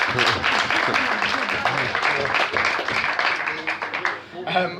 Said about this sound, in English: Can we have a round of applause for Laura, please?